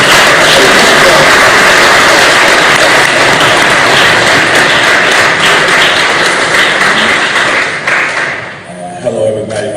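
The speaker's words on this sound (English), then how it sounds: "give him a big round of applause" Applause at a news conference held after a man was killed following a Memphis traffic stop: sustained, dense clapping from a crowd that fills most of the stretch, then thins and fades near the end.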